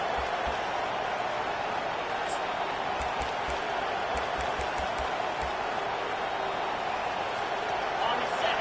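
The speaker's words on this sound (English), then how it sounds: "Listen to the crowd energy here in the early going." Football stadium crowd at a Florida State game, a steady dense roar filling the background throughout, with faint scattered thumps and cheers rising occasionally.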